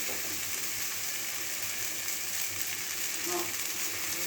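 Drained boiled Maggi noodles fry in a hot pan, giving a steady close sizzle with faint scraping as they are gently stirred.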